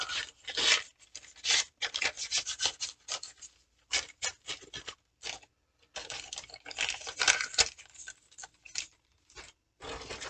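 Wet-and-dry sandpaper rubbing over parts of a 3D printed 1/72 Saunders Roe Princess model kit, a close raspy scratching in quick irregular strokes with brief pauses between bursts.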